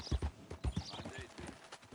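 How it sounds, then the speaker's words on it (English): Horse hooves clip-clop in Red Dead Redemption 2, a close, steady rhythmic trot of hollow thuds with faint voices in the background. "That's a fine horse you got there."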